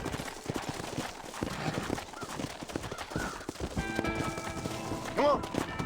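Horse hooves galloping in Red Dead Redemption, a fast rhythmic clip-clop of hoofbeats running throughout, with a whinny near the end and a voice speaking over it.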